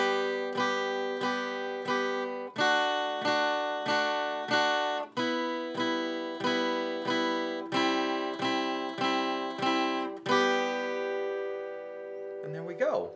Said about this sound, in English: 3-string chords are going to sound like this.